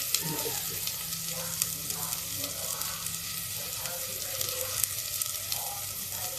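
Long pieces of bottle gourd go into a hot pan for a Navratri fasting dish, giving a steady, fairly loud sizzle and frying hiss with light stirring clatter throughout.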